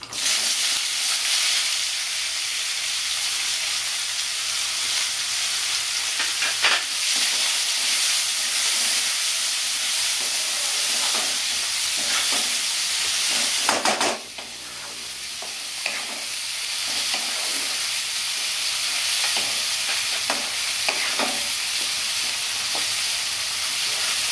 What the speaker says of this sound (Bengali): জিরাটা ফুটে গেছে, আমি এবার পেঁয়াজগুলো দিয়ে দেবো